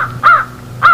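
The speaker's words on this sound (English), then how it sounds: "Suddenly my eyes were attracted to the immense flock of black birds" Crows cawing as a radio drama sound effect, two loud, harsh caws close by, evenly spaced about half a second apart over a faint background.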